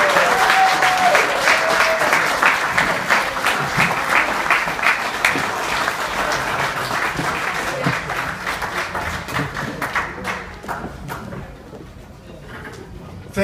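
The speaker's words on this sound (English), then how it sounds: "another round of applause" A crowd at an award ceremony applauds warmly in a long, dense burst of clapping that slowly thins and fades toward the end.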